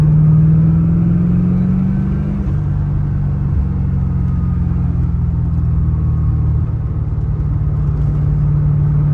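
1993 Corvette Callaway Supernatural 450 accelerating, its engine note climbing steadily then dropping through gear changes before settling into a loud, steady drone heard from inside the car.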